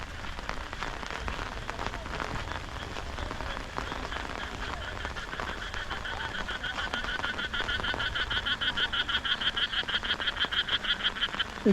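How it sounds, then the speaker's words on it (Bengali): A frog croaks in heavy rain over a green village paddy field. Its rhythmic croaks start faint, then grow louder and steadier in the second half over the constant patter of rain. "একটি ব্যাঙ ডাকছিল,"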